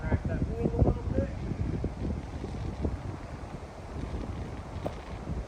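Strong gusting wind buffets the microphone on an outdoor disc golf course during a windstorm, a loud continuous low rumble with a brief voice near the start.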